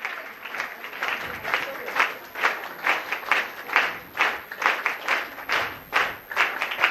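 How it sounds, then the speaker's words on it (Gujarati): Sustained audience clapping at a Women's Day gathering, dense and steady with rhythmic swells of many hands, fairly close and loud throughout. "વીર તાળીથી એમનું આપણે ખરેખર સ્વાગત લાસ્ટ પણ કરી દઈએ"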